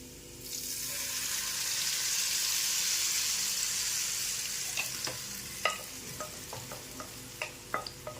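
A potato mixture hits hot oil with garlic and chili and sizzles loudly, a broad steady fry that eases off, followed by a series of sharp spatula scrapes and taps against the pan, no talk.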